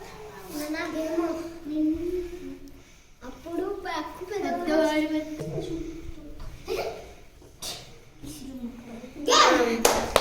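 Children playing a find-the-way game break into a short burst of clapping near the end, after several seconds of children and an adult talking and a little laughter.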